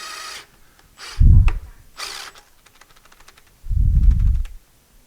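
A 12-volt cordless drill snugs up fasteners on a lathe taper attachment during a restoration, giving two short close bursts of motor whine with brief mechanical clicks and rattles between them.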